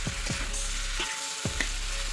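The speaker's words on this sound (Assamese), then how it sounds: "মই ভাজি ল'ম, বিলাহীখিনি গলি যোৱাকৈ" Chopped tomatoes sizzle steadily in a hot pan for a fish curry, with a few distinct scraping knocks of a spatula stirring them, heard close with no talking.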